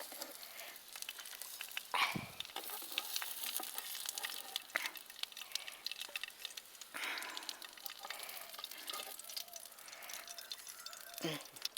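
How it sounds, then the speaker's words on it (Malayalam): Egg masala noodle wraps fry in a pan with a soft, steady sizzle and occasional clatter as pieces are turned, while a voice talks quietly over the cooking. "ഇതേപോലെ നമുക്ക് എല്ലാതും പൊരിച്ചെടുക്കാം"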